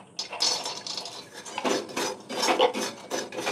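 A spoon mixes curd rice with roasted peanuts in a bowl, giving repeated close, scraping, rubbing strokes with light clinks against the dish. The strokes come in a steady, irregular rhythm.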